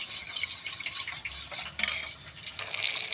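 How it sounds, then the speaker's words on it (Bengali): Spices get stirred into water in a pan for a rohu fish curry, with a spatula scraping and clinking against the metal in uneven bursts over soft sizzling; no voices. "মিক্স করে নেব জলের মধ্যে মশলাগুলো"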